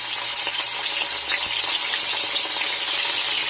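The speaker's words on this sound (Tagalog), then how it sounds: "Pero yung adobo ko guys ay aking ipiprito." Pineapple chicken adobo sizzles loudly and steadily in a pan, a dense crackling hiss close up with small pops scattered through it.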